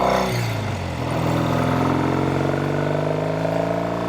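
A 1968 Triumph Bonneville 650 motorcycle engine runs steadily close by, a loud continuous drone with a slight dip in pitch early on.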